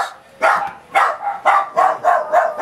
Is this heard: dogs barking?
yes